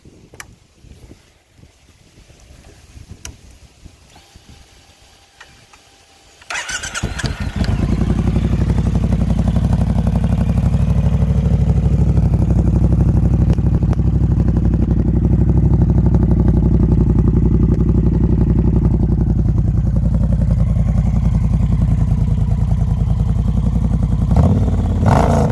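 A 2018 Triumph Bonneville T120 motorcycle engine starts after a few seconds of quiet handling noise, then runs loud and close with a deep steady rumble for the rest of the clip, with a slight swell near the end.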